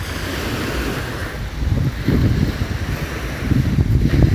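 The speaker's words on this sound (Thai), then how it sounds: "เสียงคลื่นซัดสาดนะครับ" Sea waves wash ashore at Bang Saen beach in Thailand, a steady rushing surf that swells louder partway through, mixed with wind buffeting the microphone and no voices.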